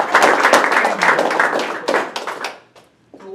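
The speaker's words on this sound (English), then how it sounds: "give a round of applause to our two representatives who took time from their business" Close, lively applause from a small audience at a hospitality award presentation, many hands clapping briskly before trailing off into a few scattered claps and near silence.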